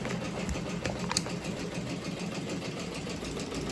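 A computerized embroidery machine stitches with a steady, fast mechanical whirr and a fine rhythmic clatter, running continuously and fairly close.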